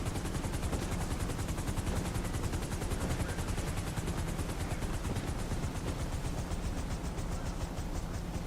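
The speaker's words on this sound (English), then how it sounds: "There is shots being fired off the ship." Rapid, continuous gunfire erupts aboard a ship in a GTA roleplay game, a dense stream of loud, evenly spaced shots that holds steady for the whole stretch, with no voices.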